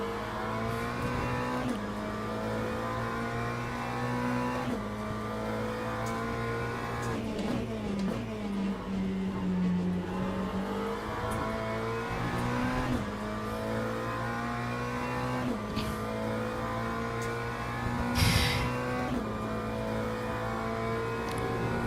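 McLaren race car in a racing sim game, its engine droning steadily with shifting pitch as it revs up and eases off through gears, a sustained close whine with a brief sharper burst late on.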